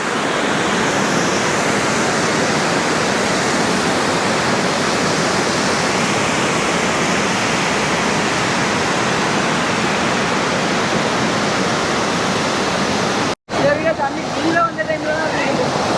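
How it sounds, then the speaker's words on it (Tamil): Steady, rushing water flows continuously down a channel in Sri Lanka, a broad loud hiss that briefly cuts out near the end before resuming more faintly. "தண்ணி அப்படியே அதால் வந்து வாய்க்கால் மாதிரி போட்டிருக்கு, அதால் வந்து அப்படியே வடிஞ்சு போகுது."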